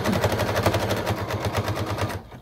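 A rapid, even run of sewing machine needle strokes from zigzag stitching through fleece, loud and close, stopping abruptly at the end.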